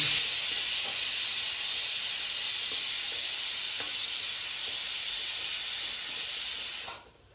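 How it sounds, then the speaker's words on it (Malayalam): Chili and other spice powders fry in hot oil in a pan, giving a loud, steady hiss and sizzle that holds evenly for several seconds, then cuts out abruptly near the end, with no voices. "നമ്മുടെ പൊടികൾ ഇട്ട് നല്ല പോലെ ഒന്ന് മൂക്കണം"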